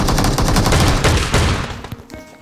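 Rapid bursts of shotgun fire from a BGMI battle royale match, loud, dense and overlapping for about two seconds before trailing off into scattered fainter shots.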